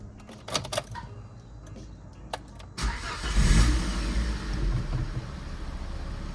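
A Volvo V70 with a newly fitted throttle body cranks with a few sharp clicks, then the engine catches and settles into a loud, steady running rumble close by.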